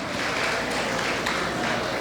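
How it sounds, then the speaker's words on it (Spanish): An audience at a Sunday church service applauds graduates with a dense, even burst of clapping that stays steady and fairly loud throughout. "Un aplauso para todos ustedes,"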